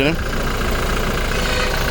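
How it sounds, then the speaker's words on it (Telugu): A 2020 Toyota Innova Crysta 2.4 Z diesel engine runs at a steady idle just after starting, a continuous close mechanical rumble with a brief higher whine at the very start. "చూసాక సార్ ఇంజన్ కూడా స్టార్ట్ అయింది"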